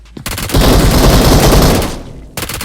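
Dense, loud burst of rapid gunfire and blasts in PUBG Mobile (BGMI) during a rush on a bridge, a sustained roar lasting about two seconds between brief quieter moments, with no talk.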